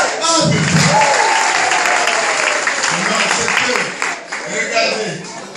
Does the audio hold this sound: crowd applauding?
yes